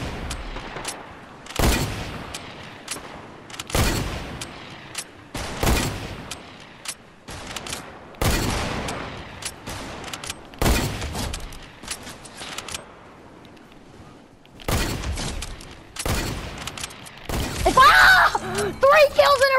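Video game gunfire in a one-shot trick-shot match: a loud, rapid string of sharp shots and bursts spread across the whole stretch, with a voice talking over the action throughout.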